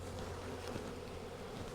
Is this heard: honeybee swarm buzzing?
yes